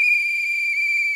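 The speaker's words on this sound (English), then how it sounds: "Hey, where's that whistle coming from?" A single loud, steady, high-pitched whistle tone is held continuously for about a second, clear and alone with no other sound around it.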